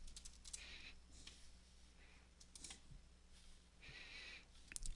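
Faint, quiet typing on a computer keyboard, with scattered clusters of soft key clicks over a low background hum.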